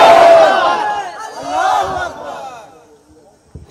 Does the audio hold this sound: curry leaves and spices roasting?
no